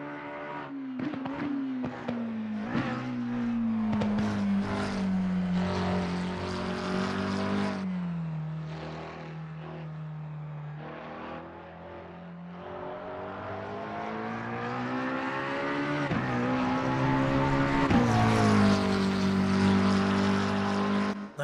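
In the Assetto Corsa Competizione racing sim, a race car's engine drones with a low hum, rising and falling through repeated revs and gear changes, loud and continuous with no talking.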